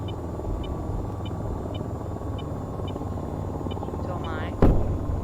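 A helicopter flown by a pilot practicing landings in the middle of nowhere, its steady rotor drone and engine hum running throughout, with a faint repeating electronic beep and a short loud thump near the end.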